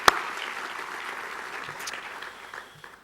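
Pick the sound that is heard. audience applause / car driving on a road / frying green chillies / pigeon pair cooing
audience applause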